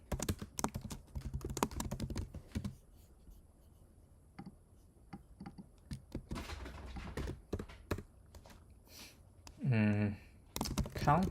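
Computer keyboard typed in bursts of rapid key clicks for coding practice, close and fairly quiet, with pauses and a voice talking in between.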